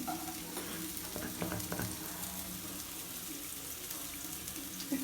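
Food sizzles and crackles in hot oil in a home kitchen, a steady quiet hiss with a few sharper spatters, heard close with no talking.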